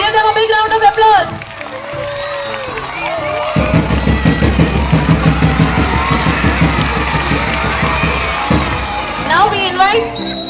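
Audience applause and cheering at a school council oath ceremony, a crowd of children clapping steadily for several seconds in a hall, with an announcer's voice before and after.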